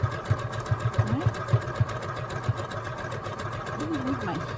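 A sewing machine stitches a maple leaf garden flag with a steady rapid mechanical whir and regular clicking. It runs close and continuously while a voice talks over it.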